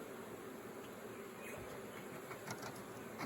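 Honey bees hum at an open beehive during queen introduction, a faint steady drone of wings close by with a few brief louder passes.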